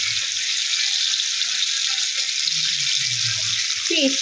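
Fish deep-frying in hot oil, a loud, steady, close sizzle with a dense, unbroken hiss throughout and faint low bubbling underneath.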